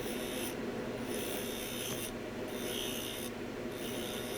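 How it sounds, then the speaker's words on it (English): A skew chisel and bowl gouge cut a spinning wood and resin bowl on a lathe, giving a loud, steady, close rasping scrape that runs without pause. "Taking some thickness off the side here with the skew chisel. And then back with the bowl gouge."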